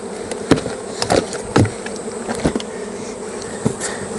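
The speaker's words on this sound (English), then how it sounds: "Knock these bees into it." Honeybees buzz up close against a steady hum as they are knocked into a new hive, with sharp bumps and knocks breaking in every so often.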